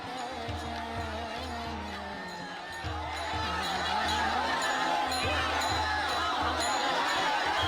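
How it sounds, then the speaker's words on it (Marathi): A crowd of Varkari pilgrims gathered to bathe in the Nira river fills the air with a continuous babble of many voices, rising slightly partway through, over a low steady hum. "नीरा नदीमध्ये स्नान करण्यासाठी या वारकऱ्यांची एकच गर्दी सुद्धा पाहायला मिळते"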